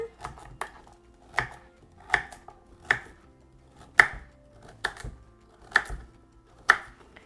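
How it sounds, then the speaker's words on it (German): A knife chopping peeled beetroot into small pieces on a cutting board, a steady series of about nine firm thuds spaced under a second apart, close and clear with no talk. "Auch hier mache ich jetzt kleine Stückchen."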